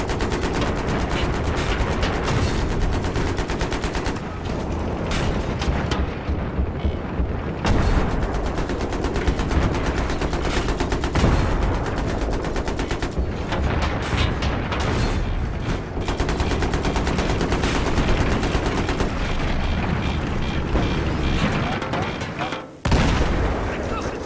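Dense, rapid video game gunfire from Battlefield 3 rattles almost nonstop with heavy booms mixed in, loud and relentless, and voices occasionally talk beneath it.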